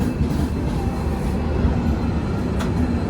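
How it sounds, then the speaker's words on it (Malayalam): A train pulling away at Sabarmati station, heard as a steady low rumble and rolling noise with faint rail clatter, continuous and fairly close for a few seconds, no talking. "നമ്മളിവിടെ സബർമതി എത്തിയപ്പോഴേക്കും നമ്മുടെ റൈറ്റ് സൈഡിൽ ഒരു വണ്ടി എടുക്കുന്നുണ്ടോ"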